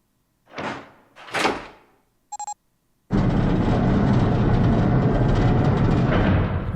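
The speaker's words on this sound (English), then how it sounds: "The door opened." A door opening in the puzzle adventure game 999 (Nine Hours, Nine Persons, Nine Doors): two soft whooshes and a short electronic beep, then a loud, steady mechanical rumble that carries on to the end.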